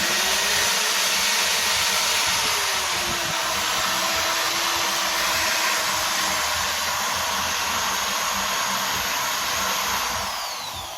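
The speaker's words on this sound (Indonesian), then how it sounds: "Ya, saya menggunakan mesin bor. Oke, saya borkan dulu bata ringannya." An electric drill bores into a lightweight concrete brick during roof bolt installation, giving a loud, steady whine that holds for about eleven seconds and tails off slightly at the end, with no talk.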